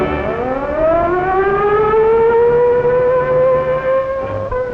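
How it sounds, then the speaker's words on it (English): A wartime air raid warning siren from a large siren system across the Lower Mainland of Canada winds up into a loud, steady rising wail and holds its pitch, alone and close. "the largest single siren system in the world sets up its warning wail"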